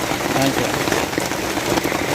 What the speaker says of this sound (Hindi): 2-3 दिन से बारिश हो रहा, ग्राहक ही नहीं है।